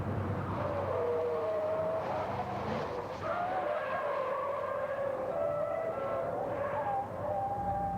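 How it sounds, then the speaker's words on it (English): A 1993 IndyCar race car laps a circuit during Nigel Mansell's first test, its engine whining with shifting pitch as the tyres squeal and skid, steady and fairly loud, heard from a distance. "was soon putting the car through its paces as he completed his first exploratory laps of the circuit"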